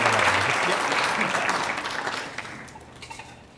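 An audience at a police department awards luncheon applauds two officers receiving a unit citation, a full round of clapping that gradually fades out toward the end.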